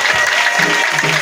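Congregation at an Easter church service applauding and cheering, a dense steady wash of clapping and crowd noise with a brief voice rising through it.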